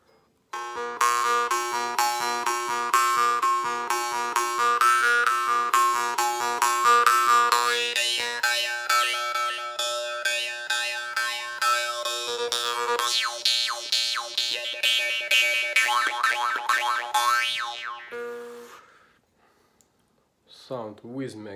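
A jaw harp played without a magnet makes a buzzing, twanging drone with rapidly shifting overtones that mimic an airplane, steady and close for most of the clip before stopping abruptly.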